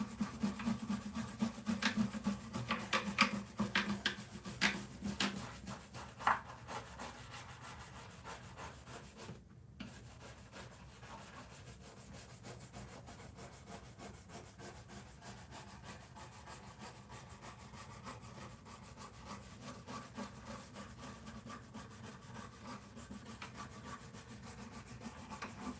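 Steady scrubbing on an old school custom '58 Fender Telecaster guitar fretboard, a close, repetitive rubbing rasp with busier strokes early on and a short pause partway through.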